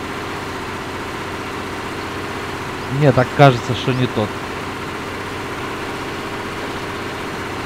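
A KrAZ 255 truck engine idles in the off-road driving game Spintires MudRunner, a steady low drone running throughout while someone speaks briefly in the middle.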